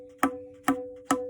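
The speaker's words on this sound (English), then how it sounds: "That sound is called na." Tabla na strokes, played as an overtone with one finger held at the edge of the black dot, ring out three times at an even, unhurried pace, each with a sharp attack and a sustained tone, with no other sound.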